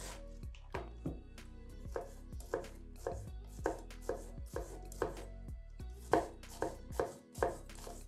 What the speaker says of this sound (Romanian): toc ceapa roșie.